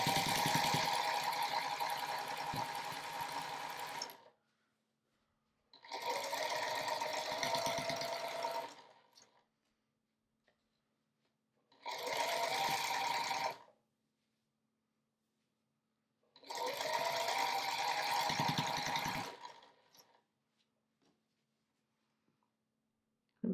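Sewing machine stitching through layers of minky blanket fabric, running in four steady bursts of a few seconds each, separated by short quiet pauses; close and clear with no talking.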